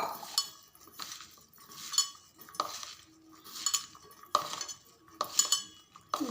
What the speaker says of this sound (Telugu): అన్నీ కలుపుకుందాం.